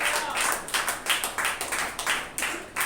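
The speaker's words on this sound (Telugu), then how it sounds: "చప్పట్లు కొట్టి ప్రభువుని కనపడు." A church congregation claps together during a Sunday service, about a dozen sharp, loud, rhythmic claps in a steady beat, close and filling the room with faint voices underneath.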